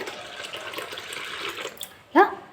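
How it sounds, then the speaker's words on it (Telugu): Water splashes and trickles into a bowl of semolina in a steady stream, ending with a brief louder splash near the end; faint voice-like tones sit underneath. "మునిగే వరకు అయితే వాటర్ అయితే వేసుకోవాలి"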